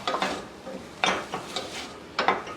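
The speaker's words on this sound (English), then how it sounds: "Just going to give that another quick little stir." A spoon stirring pitted cherries in a sauce pot for cherry rum BBQ sauce, making close, moderate scraping clinks in short irregular bursts against the metal, with no talking.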